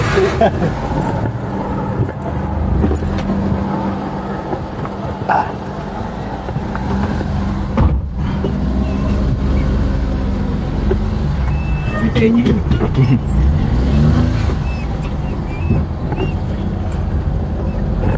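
A car drives along the road toward the SM Molino event venue, with a steady loud engine and road rumble throughout and voices talking inside the cabin.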